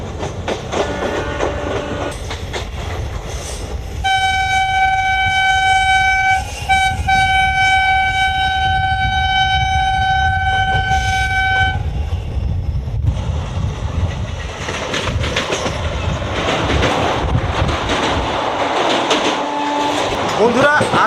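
A local passenger train from New Jalpaiguri to Haldibari runs at high speed, with a loud continuous rumble and wheel clatter, a long sustained horn blast in the middle, and a person talking over it.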